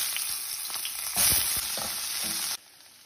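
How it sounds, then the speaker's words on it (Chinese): Parboiled chicken wings fry in a little oil in a hot pan, giving a dense close sizzle with crackles and stirring scrapes that swells midway and then cuts off abruptly. "我们给它煎至两面金黄。"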